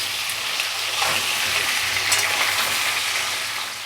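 Pieces of pointed gourd fry in hot oil with a little turmeric, giving a loud, dense, close sizzle that holds steady throughout with only slight swells, and no voices.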